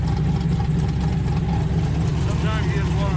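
A 1968 Dodge Hemi Charger R/T idles with a quiet exhaust, a steady low rumbling drone held close and even throughout, with someone talking over it.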